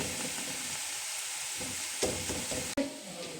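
Onions frying in a pan for a Chennai-style dum biryani give a steady close sizzle, with a couple of sharp stirring scrapes and clatters near the end.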